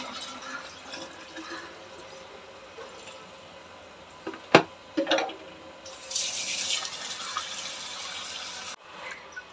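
Water runs steadily from a pipe for watering plants in a hot garden, a low continuous rush that swells louder in the last few seconds, with a couple of sharp knocks midway and no talking.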